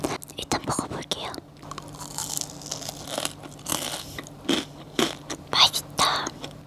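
Crisp bites and crunchy chewing of a milk-flavored macaron with a crunchy shell, close to the mic in a quiet Korean mukbang, with several sharp crunches amid soft mouth sounds and faint whispery breaths.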